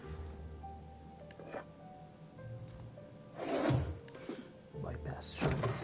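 A storage bin is opened in The Outer Worlds, giving a couple of muffled thunks and a sliding, clattering rustle over a low game ambience.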